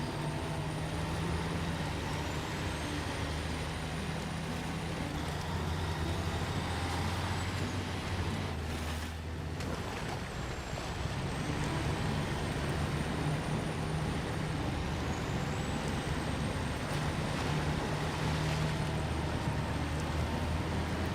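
A heavy truck engine drives through the snowy off-road world of the video game Snowrunner, rumbling steadily across the whole stretch. A high whine rises and falls over the top, and a brief air-brake hiss breaks in partway through.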